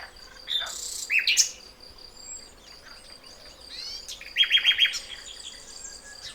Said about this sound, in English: Anyone tell me what bird that is?